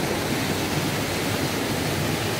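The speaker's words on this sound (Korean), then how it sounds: "폭포가 되어서 떨어지는 저 물에 낙차가 심하지는 않는데 그 폭포의 위력이 대단한다고 합니다." Waterfall in the Dalgung valley of Jirisan, Baemsagol, water pouring with a low drop but strong force into a deep pool, a dense, steady, close rushing roar with no other sounds.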